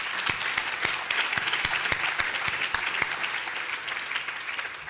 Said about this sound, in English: I'd like a round of applause for Omobola.